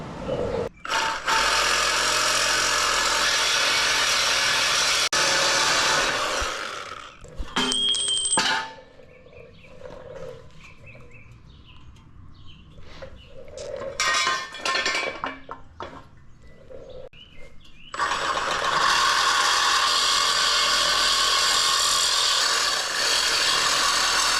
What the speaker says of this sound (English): we got our sawzall out with our bimetal blade. We're just gonna cut it here and cut it here